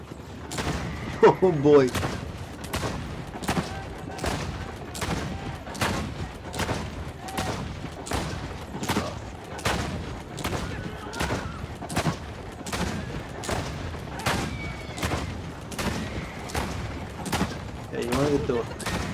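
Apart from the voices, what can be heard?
machine gun firing in video game Assassin's Creed Brotherhood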